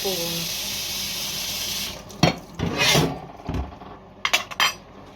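Cold water runs from a kitchen tap in a strong, steady rush for about two seconds, then stops. Clinks and knocks of dishes and pots follow, close by.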